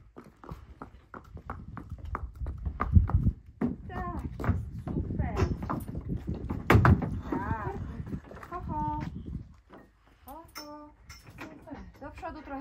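Horse hooves clop on a trailer floor as a horse walks in during a move to a new stable, a run of sharp near knocks under ongoing Polish talk and praise, with metallic clanks and a brief whinny-like tone late on.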